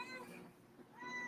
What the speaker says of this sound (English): I hear your cat there trying to make it.